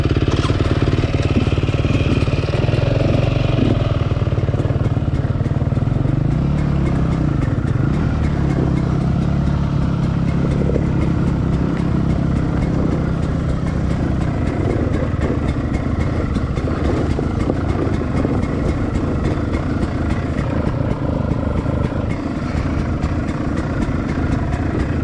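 An off-road motorcycle on short trail loops descends a slope with the clutch in and the rear brake on, its engine idling in a steady low rumble that stays close and continuous for the whole stretch.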